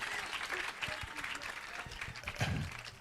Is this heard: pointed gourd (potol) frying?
no